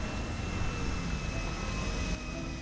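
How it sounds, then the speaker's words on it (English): A plane in GTA 5 roars steadily overhead as a broad, loud engine rumble that fills the whole moment without a break. "Oh, there's a plane."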